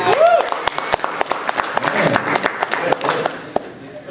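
A convention panel audience claps steadily, a dense patter of many hands with a few sharper individual claps, while a voice speaks briefly at the start.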